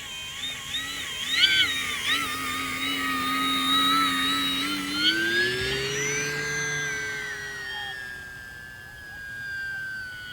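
A Kavan Norden 1600mm PNP electric RC model airplane flies overhead. Its motor whine rises and falls in pitch as the throttle changes, and the tone sweeps as the plane passes, with no voices.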